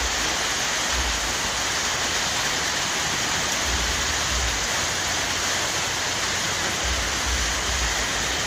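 Steady, dense rain hisses without pause in Kenya, a constant wash of noise with occasional low rumbles beneath.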